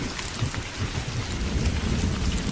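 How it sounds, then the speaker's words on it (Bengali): Heavy rain in a thunderstorm, as a cartoon sound effect: a dense, loud, continuous downpour with a deep rumbling roll of thunder underneath, alone with no voices. "কিছু বুঝে ওঠার আগেই বৃষ্টি শুরু হয়ে গেল।"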